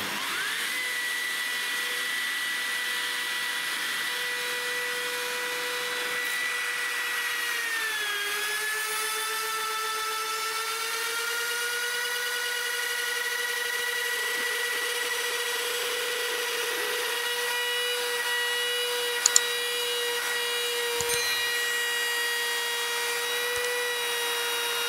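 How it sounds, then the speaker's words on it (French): A CNC router with a surfacing bit machining a wooden spoilboard, a continuous loud whine with a steady pitch that dips briefly and settles, running alone for the whole stretch. "j'ai mis la fraise à surfacer, j'ai fait le zéro. Donc maintenant, je vais surfacer."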